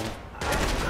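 Gunfire erupts in the video game Watch Dogs, a sudden loud burst of rapid shots breaking in after a moment of quieter background.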